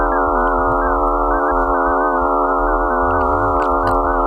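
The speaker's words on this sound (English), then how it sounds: "Well, this is the sound of Phobos." A sonified recording presented as the sound of Mars' moon Phobos gives a steady, harsh, buzzing drone of stacked tones, with a rumbling low undercurrent, heard continuously and loud throughout.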